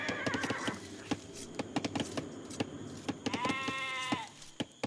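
Sheep bleating in the Age of Empires strategy game, a quavering harmonic call near the end over clicky game sounds and another animal call at the start.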